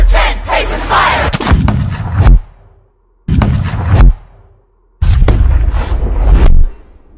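Gunshots from the duel scene of the Hamilton stage musical, three loud sharp blasts each trailing into a booming echo, separated by short silences, with crowd-like roar and music around them.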